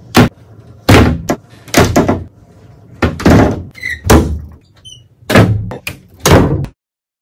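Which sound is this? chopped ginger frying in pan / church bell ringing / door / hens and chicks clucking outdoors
door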